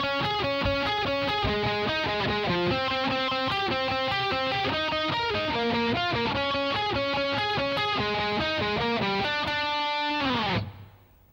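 Distorted electric guitar plays the first guitar part of the interlude: a fast, steady run of picked notes for about ten seconds, then a sustained note that cuts off.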